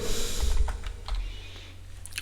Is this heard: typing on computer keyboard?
yes